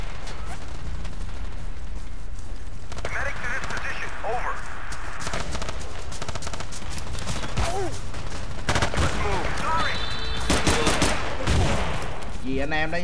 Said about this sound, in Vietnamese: Giật súng bắn chơi cho vui thôi.